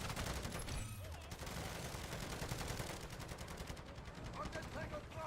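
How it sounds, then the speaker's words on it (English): An automated sentry gun in a video game fires in rapid, continuous bursts, loud and dense for the whole stretch, with a faint voice briefly audible partway through. "Sentry gun deployed."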